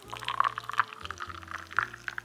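Coconut water poured from a carton into a glass for a matcha drink, a steady trickling splash close by with a low background hum.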